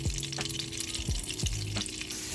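A piece of butter sizzles in about four teaspoons of hot olive oil in a pan beside boiling pasta, giving a steady crackling fry with a few low knocks and bumps from stirring, close and with no talking.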